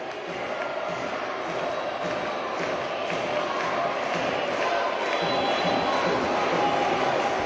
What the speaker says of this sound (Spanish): Y Nico que se lleva la ovación